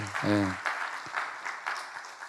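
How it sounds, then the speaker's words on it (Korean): A brief burst of clapping from a church congregation at a Friday prayer meeting follows a short spoken word, continuing as a steady patter of applause. "박수 한번."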